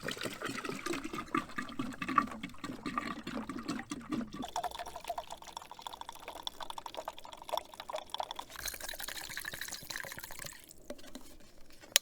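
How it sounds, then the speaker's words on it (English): Two gallons of white vinegar glug and splash steadily into an outdoor wood boiler during fall maintenance, a continuous pouring rush that changes tone partway through as the liquid level and flow shift. "we're going to put in our 2 gallons of white vinegar"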